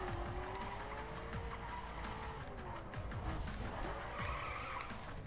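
Tyres squeal and skid through a drift in the racing video game The Crew, the long screech running continuously over a steady engine roar, loud and close, with no voices.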